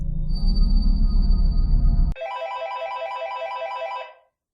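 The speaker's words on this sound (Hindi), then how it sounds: "ऑफिस से फोन।" A telephone rings close by: a low rumbling tone gives way to a bright, repeating electronic ring that cuts off after about four seconds.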